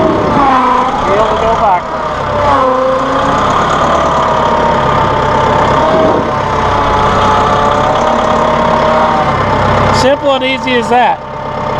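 A Massey Ferguson tractor with a hydrostatic transmission and a raised loader runs at a steady, close engine drone that carries through the whole stretch, with someone talking over it throughout.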